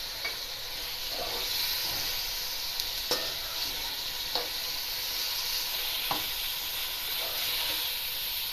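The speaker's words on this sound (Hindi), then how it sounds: "और इसको हल्का सा फ्राई करेंगे। और साथ ही इसमें अदरक लहसुन डाल देते हैं।" Minced meat fries lightly with ginger and garlic in a pan, giving a steady close sizzle and hiss with occasional soft scrapes and stirring clicks throughout.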